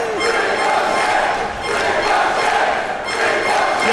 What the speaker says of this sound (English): Ricochet hearing the chants from the crowd